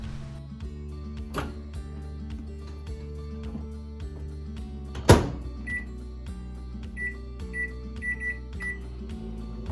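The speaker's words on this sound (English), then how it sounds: "And back into the microwave it goes." A microwave oven hums steadily, with a sharp click partway through and a few short electronic beeps toward the end.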